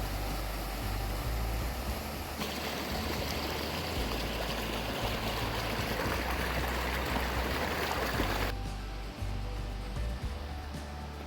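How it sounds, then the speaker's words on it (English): Russell Fork River running through a park, a steady broadband rush of flowing water that stays continuous and fairly loud throughout, with no voices. "The Russell Fork River runs right through the park."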